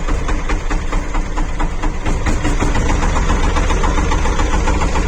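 A Shifeng 244 tractor engine runs at idle, a steady loud mid-pitched diesel chug with a rhythmic knocking pulse throughout, close by and alone.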